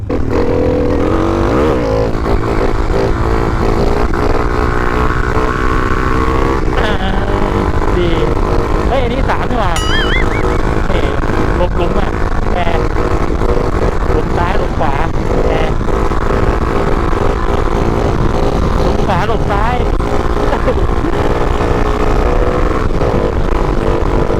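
A motorcycle engine revs loudly and close throughout a wheelie, the pitch rising and falling as the throttle is worked, with someone talking over it at times.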